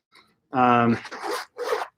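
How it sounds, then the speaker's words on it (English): A water-resistant zipper on a NOMATIC x McKinnon camera bag is pulled open close up: one long, loud rasping zip followed by two shorter, softer zipping strokes, with a voice briefly present. "But it does have the water resistant zipper as well."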